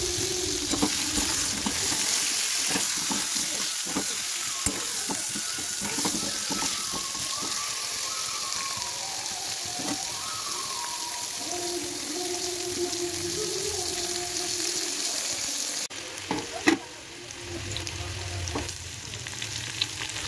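Potato pieces coated with turmeric and salt fry in a pan with a loud, constant crackling sizzle, broken by repeated spatula scrapes and stirring clatter up close; a sharp knock near the end, no speech.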